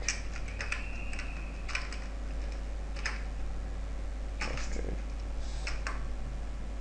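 Computer keyboard keys tapped irregularly while entering data in an Excel spreadsheet, a few soft clicks spread out, ending with a firmer Enter keypress, close and quiet over steady low room hum.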